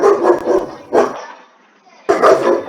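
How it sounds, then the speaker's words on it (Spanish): A dog barks in bursts indoors during a gathering, three loud clusters of barks separated by brief quiet gaps. "Pena con el perro."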